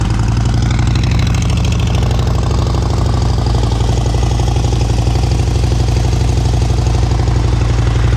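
A motorcycle engine runs steadily at slow speed during a riding practice session, a loud, close, continuous low putter with a rhythmic pulsing beat and no break.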